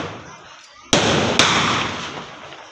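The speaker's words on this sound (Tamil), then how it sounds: "எல்லாம் பட்டாசு வச்சுட்ருக்கோம்" Two sharp Diwali firecrackers burst close by in quick succession, each crack trailing into a hissing, crackling decay, with faint chatter before them.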